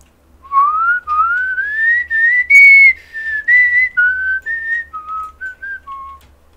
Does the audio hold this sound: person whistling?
yes